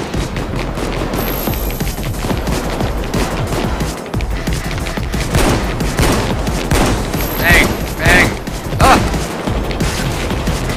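Rapid automatic gunfire and bursts of shots in the heist shooter Payday 2, loud and nearly continuous with booming impacts, while players talk over the action.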